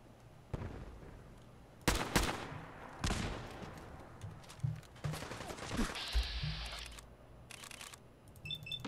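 A new gun fired in Fallout 4, giving several sharp, scattered shots with clicks and mechanical clatter between them and a brief hiss, with no speech over it.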